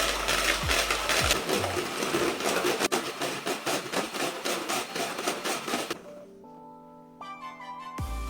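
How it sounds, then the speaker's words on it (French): Egg whites are whisked into stiff peaks in a bowl, a fast, steady series of rhythmic beating strokes for several seconds, followed by a few bright musical tones once the whisking stops. "Et là je vais monter les blancs en neige."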